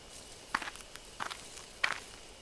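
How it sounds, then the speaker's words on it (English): Footsteps rustling through bushes nearby in the horror video game Death Mark: three short crunchy bursts of steps, moderately loud and close, with no talking. "there are footsteps close by, from the bushes"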